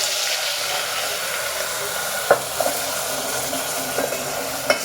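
Ground onion-coconut masala paste with asafoetida fries in hot oil, giving a steady, close hiss and sizzle broken by a few sharp scrapes and taps of stirring.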